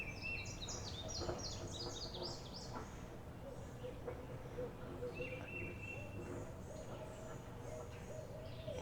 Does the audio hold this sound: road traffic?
no